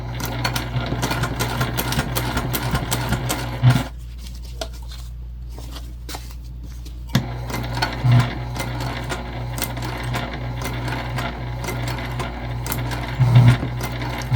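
A sewing machine top stitches a travel sling bag through layered fabric, a steady close motor hum with rhythmic needle ticking, pausing for a few seconds midway before resuming.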